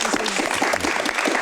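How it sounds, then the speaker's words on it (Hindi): Studio audience applause on a Pakistani talk show, a dense, steady wash of clapping filling the short stretch at moderate loudness with faint speech traces. "तालियां इस बात पे।"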